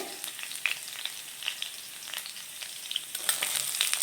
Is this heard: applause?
no